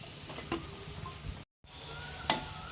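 Soft stirring and scraping in a pan as sliced big onions are mixed into frying jackfruit thoran, with a faint sizzle underneath and a couple of sharp utensil clicks; quiet and close, with no talking.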